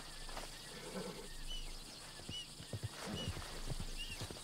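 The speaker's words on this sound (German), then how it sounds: "couldn't help me get my other horse back from over there, could you?" A horse in Red Dead Redemption 2 snorts faintly while hooves clop on the ground, with soft steps in the middle and end over a steady outdoor ambience, and no one speaking.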